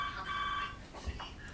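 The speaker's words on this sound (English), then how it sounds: "We'll have to answer that phone, I'm afraid." A telephone rings faintly in an indoor room, a brief burst of electronic ringing tone that fades into quiet background hum.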